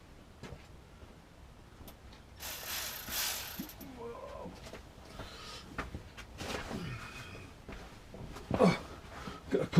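A ratchet wrench clicks in short bursts while fastening a gearbox on a Mk1 Ford Granada, with metallic clanks and handling noises in between in a garage setting.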